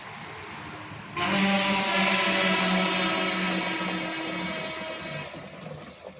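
Water from a pot is poured into a tank on a rice farm, a sudden loud rushing gush that keeps pouring steadily for several seconds before tapering off.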